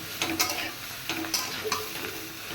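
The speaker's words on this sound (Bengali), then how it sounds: "এঁচোড়টা ফ্রাই হয়ে গেছে এবার এটা আমি নামিয়ে দেব" Pieces of young jackfruit fry in oil, a steady sizzle broken by a few brisk stirring scrapes in a loose rhythm, close and fairly clear, with no voices.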